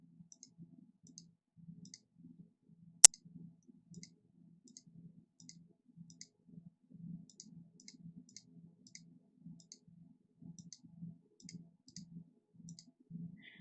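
Computer mouse clicks while drawing a cityscape in Microsoft Paint: a long run of small, quiet, evenly spaced clicks with one sharp, louder snap early on, over a low steady hum.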